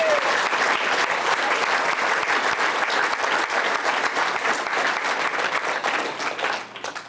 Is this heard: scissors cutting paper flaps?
no